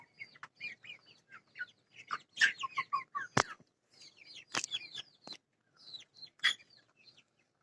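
Roosters on a Tiger chicken farm cluck and call close by in short, irregular bursts. Several sharp, loud squawks stand out among the chatter, with quiet gaps between them and no talking.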